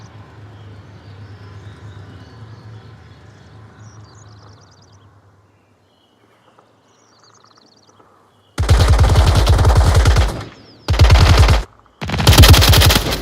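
Automatic gunfire in a competitive video game match, heard as three loud, rapid bursts of rattling shots separated by brief gaps, following a quieter stretch of game ambience.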